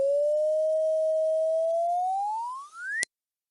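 Sonification of the cubic curve x cubed on a graphing calculator: a steady sine-like tone holds nearly level for two seconds, then bends upward in pitch, ending with a short click.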